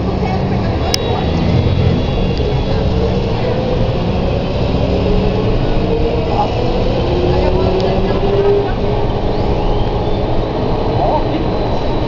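A Volvo B10M bus with a Voith automatic transmission drones along from inside the cabin, its engine a steady, loud low rumble with a faint whine that rises slowly as it gathers speed.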